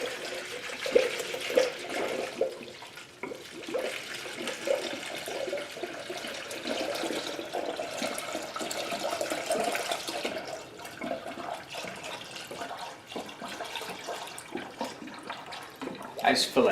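Coolant poured into the cooling system of a Hyundai Genesis 2.0T R-Spec makes a continuous gurgling, splashing liquid rush that lasts throughout, fairly close and steady with small surges.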